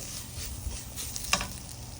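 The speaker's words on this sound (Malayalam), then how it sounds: "ആ പൊടികളുടെ പച്ചമണം മാറുന്നവരെ മൂപ്പിക്കുക" Spice powders and chicken masala frying in a pan for cauliflower curry give a soft, steady sizzle with light stirring scrapes and one sharper clink midway, with no voices.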